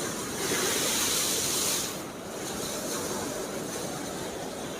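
Sea waves surge along the Cleopatra stretch of the Alexandria corniche, a steady broadband wash of surf with a louder swell in the first two seconds, then a continuous rushing roar with no voices.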